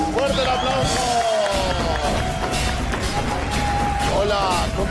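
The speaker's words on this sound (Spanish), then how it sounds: "¡Fuerte el aplauso!" Studio audience on a Colombian Caracol TV variety show claps loudly and steadily, a dense continuous wash of applause with crowd noise and voices talking over it.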